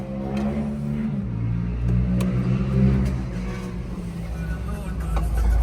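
A Peugeot car engine at a dealership turns over and settles into a steady low idle hum inside the cabin, with people talking over it throughout.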